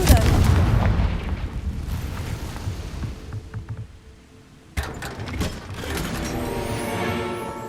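A Confringo fire spell in Hogwarts Legacy erupts with a loud, booming blast that rumbles and fades, followed by a second burst of explosive crackle.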